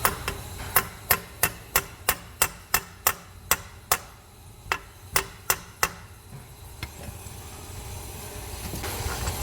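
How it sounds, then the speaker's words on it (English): A hammer taps universal-joint bearing caps into place in a garage, giving a steady run of about fifteen sharp metallic strikes spaced roughly a third of a second apart, then a lull with low background noise. "You usually tap them in with a hammer."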